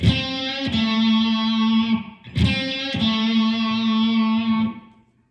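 Two sustained electric guitar notes from a PRS Silver Sky SE ring out one after another, bright and shimmering with effects, each struck and left to hang before fading.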